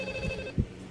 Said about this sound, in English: It's ringing, as we can see.